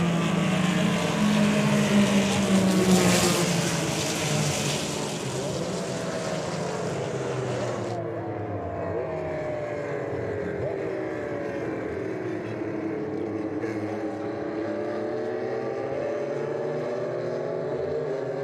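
Porsche race cars run on the Daytona track during the Daytona Classic 24 Hour, engine drones sweeping in pitch as cars pass, louder at first, then a steady mid-distance roar with several engines overlapping.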